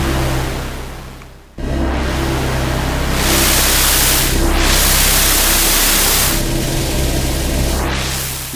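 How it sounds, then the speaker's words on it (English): Broadband white noise from an analog synthesizer's noise source, loud and steady, dropping out briefly near the start and then returning with slow sweeping changes in tone. "we are adding actual white noise to that"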